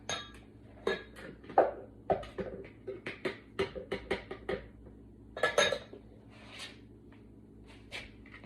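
Spinach crust mixture is scraped and tipped into a mixing bowl, with a string of sharp clinks and knocks from utensil against bowl in irregular bursts, close and fairly crisp, over a quiet kitchen background.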